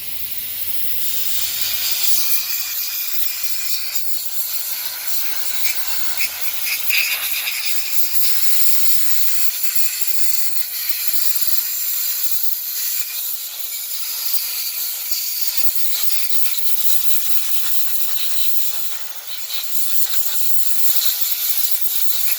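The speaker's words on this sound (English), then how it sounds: "now we're gonna use the air nozzle to clean it" Compressed air nozzle blowing a cleaned injector nozzle from a 1993 Mercedes-Benz W140, giving a loud, continuous high hiss that holds steady for over twenty seconds with no talk.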